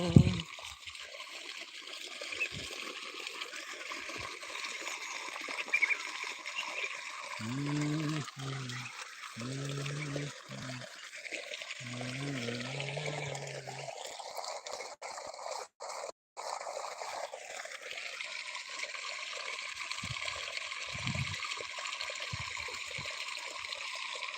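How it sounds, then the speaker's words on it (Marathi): Water rushes and trickles steadily, like irrigation flow pouring into a field, with a brief stretch of singing or voices partway through. "शेतामध्ये पाणी देत आहे आम्ही"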